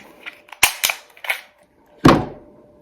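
Metal parts of a Glock pistol clack sharply as the slide is pulled off, a few quick clicks followed by a louder snap, close up and with no talk.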